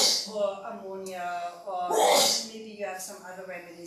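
A single sharp sneeze bursts out in the middle of someone's ongoing indoor talk about bee and wasp stings, loud and close, with speech continuing around it.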